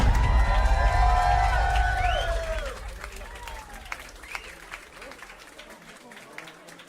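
A crowd claps and cheers loudly with whoops and shouts, then the applause fades to scattered claps and voices.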